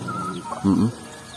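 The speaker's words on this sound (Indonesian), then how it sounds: "emak juga memiliki beberapa ayam di sini" A brief soft clucking from a chicken in the middle of a quiet outdoor scene, a single short burst of low throaty notes.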